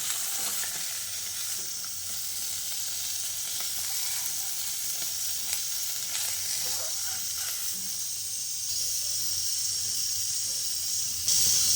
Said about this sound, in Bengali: একইভাবে বাকি মাছগুলোকে ভেজে নিচ্ছি।